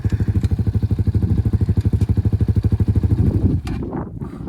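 A Kayo K2 230 dirt bike ridden nearby, its single-cylinder engine pulsing in a rapid, loud chug that holds steady and then drops off abruptly near the end, leaving a rougher, quieter idle.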